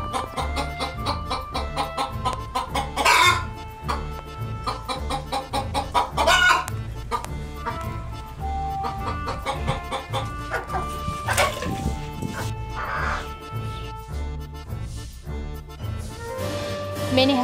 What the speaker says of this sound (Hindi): मुझे मुर्गियों की शोर की आवाज़ सुनाई दी